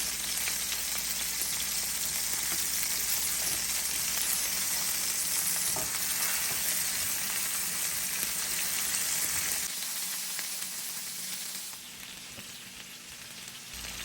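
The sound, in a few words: fish frying and browning in a pan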